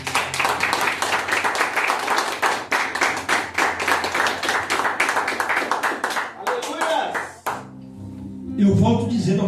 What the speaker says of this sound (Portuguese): Quem pode aplaudir a palavra de Deus?